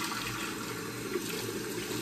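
Very hot tap water runs steadily to rinse a shaving bowl, a continuous broadband splashing rush with no talk.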